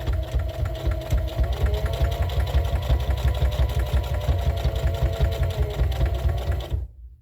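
Sewing machine stitching through fabric layers of a reusable scrubbing sponge, a loud, steady rapid mechanical whir running continuously before stopping abruptly, close by and without talk.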